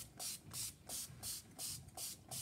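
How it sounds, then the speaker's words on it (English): A spray bottle mists water over the back of a sheet of watercolor paper: about seven quick, evenly spaced hissing bursts, close and fairly loud, with no talking. "I start off just by spraying the paper, and I try to make sure I get all of the back of the paper"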